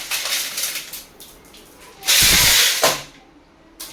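Dirty water tipped out of a vessel after soaking a hair tie, a loud gushing splash lasting under a second, with quieter faint splashes and dripping before and after.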